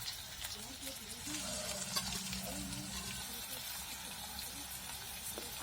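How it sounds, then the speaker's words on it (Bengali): Ginger, garlic, onion and tomato frying in oil in a pan, a soft steady sizzle with light stirring clatter, faint voice murmurs underneath. "তেলের মধ্যে আদা, রসুন, পেঁয়াজ দিয়ে দিলাম।"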